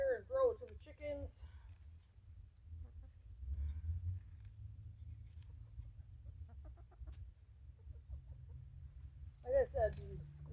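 Backyard chickens cluck in short bursts at the start and end, close by, being tossed garden greenery. A low steady hum sits underneath and no one speaks.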